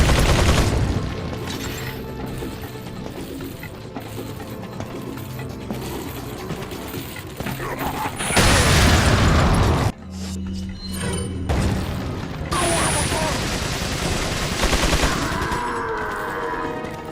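Sustained rapid gatling gun fire from many enemies in a video game, a dense loud mechanical rattle running continuously with a brief break and sharp cut partway through before resuming.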